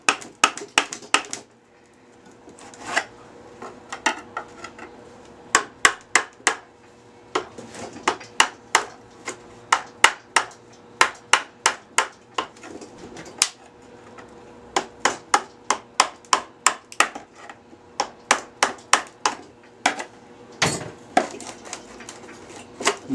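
Plaster or resin cast being worked free of a stiff, unwaxed mold, giving a long series of sharp cracking and popping snaps, some isolated and some in quick bursts, fairly close and with no talking.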